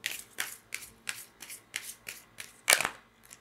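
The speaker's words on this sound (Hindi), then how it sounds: "Let's shuffle one more time." Tarot cards being shuffled by hand in a quiet room, a steady run of about nine crisp riffling bursts at regular intervals, the last one sharper and louder.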